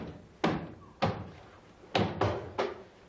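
Several heavy thuds against a door in a sitcom scene as a person bumps around trying to find it, five irregular knocks spaced across a few seconds, fairly close with quiet gaps between.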